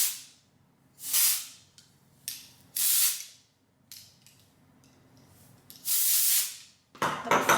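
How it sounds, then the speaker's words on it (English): Several short bursts of hairspray hissing close by, sprayed at the hair roots, with quiet gaps and faint handling sounds between them. "So I'll just spray a little bit like at the roots here."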